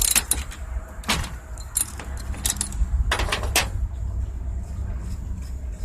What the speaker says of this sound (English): A 3/4 inch deep well socket will remove the spark plug.